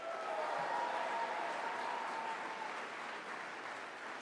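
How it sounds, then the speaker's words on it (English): An audience at a get-out-the-vote rally in Buffalo claps steadily, a dense wash of applause that holds level and tapers slightly over a few seconds. "Give yourselves a round of applause."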